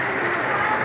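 An audience at a poetry gathering (kavi sammelan) in Patna breaks into brief, dense applause, a steady wash of clapping with no gaps.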